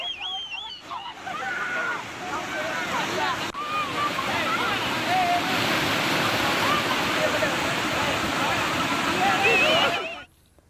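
Floodwater from a breached lake bund rushes across flooded farmland and a highway in Tumakuru, a loud, continuous roaring wash with wind buffeting the microphone, ending abruptly.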